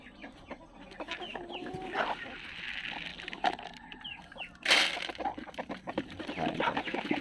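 A flock of seven Sasso chickens clucks and calls steadily at close range, with a brief louder squawk midway and no talking.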